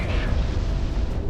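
A missile explosion in the jet combat game Project Wingman, a short, heavy, low booming roar that stays loud throughout.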